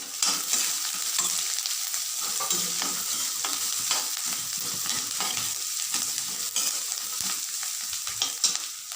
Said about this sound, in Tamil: அடுத்ததாக பச்சை மிளகாயும் கருவேப்பிலையும் சேர்த்து வதக்கிக்கலாம்